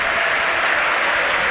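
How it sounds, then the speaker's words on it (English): A home football crowd gives a substituted player a standing ovation, a steady dense wash of clapping that fills the whole short stretch at close, even loudness. "Sam Morsey's getting a standing ovation from the home crowd. That's what the clapping is now"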